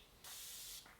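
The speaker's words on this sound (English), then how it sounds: "That's got a really nice spray." Colourpop hyaluronic acid setting mist sprays onto a face in one steady, close hissing burst lasting about half a second, then cuts off sharply, followed by a faint brief tail.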